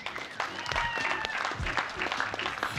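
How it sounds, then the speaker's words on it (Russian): Cage-fight crowd applauding at a fight show, steady clapping throughout with a voice talking over it. "Поддерживайте, да, аплодисментами, друзья."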